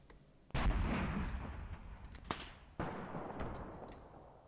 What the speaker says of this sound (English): Yeah, mortars are landing.